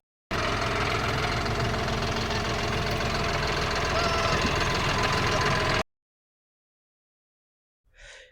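A John Deere 5405 4x4 63 HP tractor engine idles with a steady, loud, knocking diesel rumble for several seconds, then cuts off abruptly into silence before a brief distant sound.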